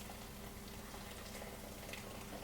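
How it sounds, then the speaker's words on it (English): Pot of hot water at a steady rolling boil for cooking noodles, a dense, even bubbling hiss with small pops, heard up close and quietly with no one talking. "we boil the noodles in hot water just to make it"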